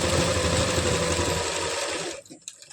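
Sewing machine running a steady, fast stitch on palazzo pants, a close buzzing whir that carries on for about two seconds before stopping, leaving brief faint handling sounds.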